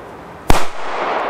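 A single sharp Funke B-Böller firecracker blast goes off close by, a loud crack followed by a short ringing tail and lingering noise.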